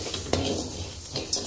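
Sesame seeds roasting in a pan give short metallic scrapes and clinks of a utensil stirring against the pan, with soft rustling between strikes, close and alone.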